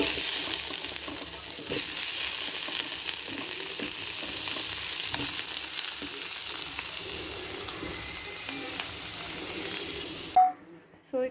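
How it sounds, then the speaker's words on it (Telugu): Paneer fries in homemade ghee in a pan with a continuous, close sizzle and crackle. It stops abruptly near the end. "పన్నీర్ అయితే వేయించుకుంటున్నాను"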